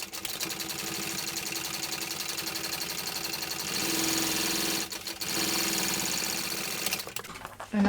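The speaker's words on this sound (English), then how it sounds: "I'm going to come back in and do that second lot of stitching" A sewing machine stitches a second row of topstitching on a fabric bag, a steady close-up mechanical whir with rapid needle ticking that runs almost continuously, briefly pausing near the end before restarting.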